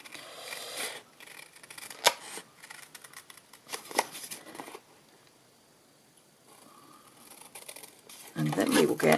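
Scissors snip through pattern paper along a pencil mark while making a coffin-shaped treat box lid, giving several crisp, separate cuts with pauses between them and a louder rustle at the end.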